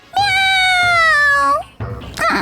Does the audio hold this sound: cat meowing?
yes